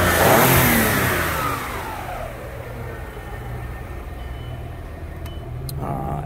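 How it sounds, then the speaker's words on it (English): A 2000 Audi S4 engine revving hard at first, then settling back toward a steady mid-pitched idle with a lighter blip near the end, close and loud with no talk. "Let's rev this thing a little"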